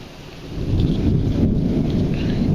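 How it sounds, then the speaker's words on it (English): A night thunderstorm with heavy rain pours steadily throughout, while a deep low rumble of thunder swells and rolls underneath and no one speaks. "Just look at this storm."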